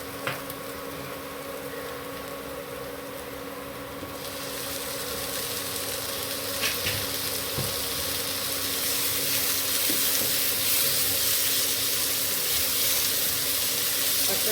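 Tomatoes hit hot oil in a pressure cooker while chicken biryani is being made, and a steady, close sizzle swells and holds loud throughout.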